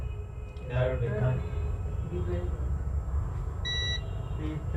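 A digital multimeter set to its continuity range gives one short, high beep during a Samsung A13 phone repair on a workbench, heard faintly beneath steady talking and room hum.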